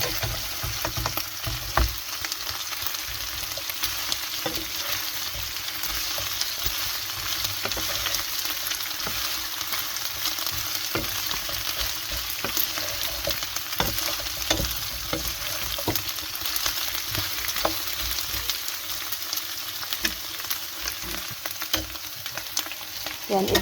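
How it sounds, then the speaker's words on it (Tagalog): Chicken feet sauté in a hot pan, giving a steady, close sizzle and frying hiss with occasional scrapes and clinks of stirring. "Yan, igigisa lang natin sa dali guys ang ating chicken feet."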